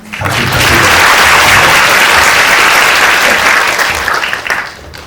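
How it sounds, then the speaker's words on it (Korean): A cinema audience at a film talk event with director Kore-eda Hirokazu applauds the interpreter, a dense, steady wash of clapping that swells quickly, holds loud and full, then thins out near the end. "오늘 통역에는 김현정 통역가님께서 수고해주고 계십니다. 박수 부탁드립니다"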